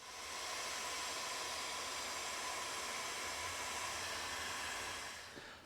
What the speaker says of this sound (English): and we're going to shrink it down with the heat gun.